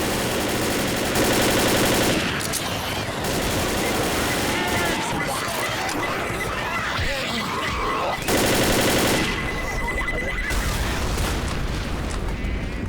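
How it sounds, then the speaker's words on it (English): Rapid bursts of automatic gunfire crackle and boom amid Left 4 Dead game noise, with loud sustained blasts recurring and muffled voices underneath. "you can hear gunfire in the background"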